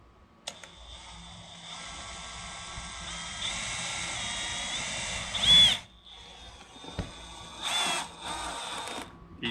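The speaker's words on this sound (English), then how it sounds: "Don't tighten it too much with the drill." Power drill driving screws into a Nissan 350Z Nismo front lip, a run of whirring drill bursts and short buzzes, close and fairly quiet, with clicks and handling noise between them.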